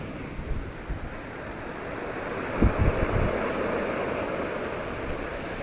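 Ocean waves breaking on a stony shore, a steady wash of surf with wind, and a slightly louder surge midway as the water pulls back over the stones.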